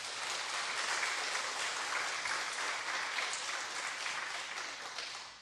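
Applause from a church congregation fills the whole stretch, a steady dense wash of many hands clapping at moderate level that tapers slightly at the end, with no talk over it.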